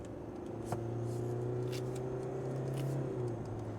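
A 2025 KGM Rexton SUV's engine drones steadily from inside the cabin under acceleration, a smooth humming tone that climbs gradually in pitch over a few seconds, moderately loud and continuous with no talking.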